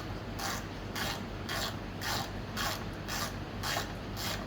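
A hand ratchet clicks steadily while tightening bolts on a rack of a 2003 Honda Elite 80 scooter, giving about eight even bursts of rapid pawl clicks at a quiet, close level over a low hum.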